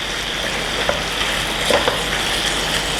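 Chicken pieces for changezi chicken curry fry in oil in a pan, a loud continuous sizzle with a few light scrapes and taps of stirring close by, and no voices.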